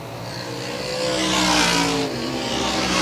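Race cars roar around a track at Airborne, engines droning loud and close with rising and falling revs as the pack passes by, a continuous wash of engine noise.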